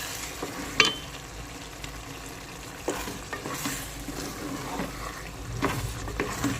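Food simmers and sizzles softly in a pot under steady stirring, with occasional sharper scrapes and clinks of a utensil against the pot.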